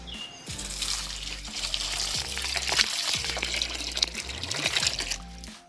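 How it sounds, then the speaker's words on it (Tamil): Water splashes and trickles steadily as peeled home-roasted coffee beans are rinsed, with a continuous liquid wash and occasional dull knocks, close and fairly quiet. "இப்போ கழுவி இதை காய வைக்க போகிறோம்."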